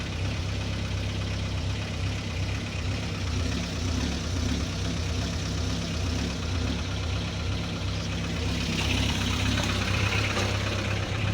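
A motorhome engine with 94,512 on the clock, a recently done cam belt and camshaft and a newly fitted exhaust, idling in a steady, low, continuous rumble with no talk.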